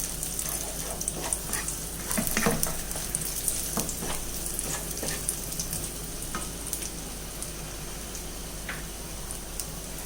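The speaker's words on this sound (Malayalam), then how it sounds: "കശുവണ്ടിപ്പരിപ്പും ഉണക്കമുന്തിരിയും ഡേറ്റ്സും കൂടെ കഷ്ണങ്ങളാക്കി വെച്ചിരിക്കുന്നത് ഇട്ട് കൊടുക്കാം. ഇത് നല്ലപോലെ ഒന്ന് ഇളക്കി കൊടുക്കാം." Cashews, raisins and chopped dates stirred in a pan give a soft, steady sizzle with scattered light scraping clicks from the spoon; quiet and close, with no talk.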